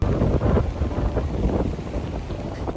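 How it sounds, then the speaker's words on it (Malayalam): Strong wind roars and buffets the microphone in a continuous rumbling gust, loud and close, with no one speaking. "എന്താ അറിയില്ല, ഭയങ്കര കാറ്റ്"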